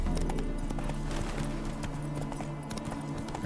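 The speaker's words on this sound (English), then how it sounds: "I'm actually gonna call Roach as we ride to our next location" Hoofbeats of the horse Roach galloping in The Witcher 3, a quick continuous clip-clop rhythm close by over a busy layer of game music and ambience.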